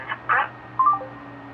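Keypad button tones from a Samsung Galaxy S3 navigating an AT&T voicemail menu, a few short, clear electronic beeps in quick succession with no voices.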